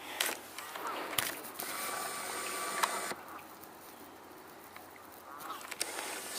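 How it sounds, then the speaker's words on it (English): Canada geese honking outdoors near a feeding garden, several loud, rough honks repeating irregularly at moderate distance over steady background noise. "So we're hearing the Canada geese also."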